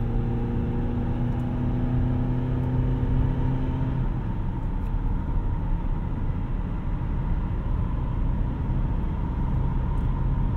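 A 2013 Acura TSX wagon accelerates on throttle, its engine drone rising and blending into a loud, steady wash of road and wind noise heard from inside the cabin.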